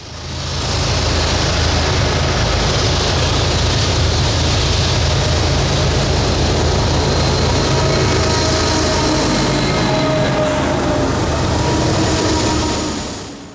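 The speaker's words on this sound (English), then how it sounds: "up came what I believe to be train MLDPP. In the lead was a GE AC45 CCTE with two GE AC4460 CWs trailing" A Union Pacific manifest freight train passes near Austin and Round Rock, led by a GE AC45CCTE with two GE AC4460CW locomotives trailing. Its heavy rumble and rolling clatter build, stay loud and steady, then ease slightly toward the end.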